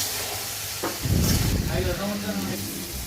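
Chili powder and whole green chilies being stirred and sautéed in a pan while cooking a Bengali fish curry with potatoes, a burst of sizzling and spoon scraping midway, with a voice talking over the cooking.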